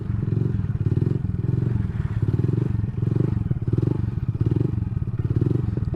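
A Honda Grom motorcycle spinning sit-down circle wheelies in a parking lot, its small engine droning loud and close with rhythmic rises and falls in pitch as it loops round and round.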